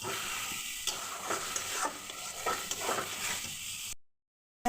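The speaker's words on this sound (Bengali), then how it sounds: "এবার মাছগুলো ছেড়ে দেবো। এবার সবগুলো অল্পক্ষণ নেড়ে চেড়ে অল্প চুল দিয়ে দেবো।" Small pre-fried fish sizzle in hot oil in a pan while being stirred, with steady frying hiss and soft scraping strokes at close range before a sudden cut to silence.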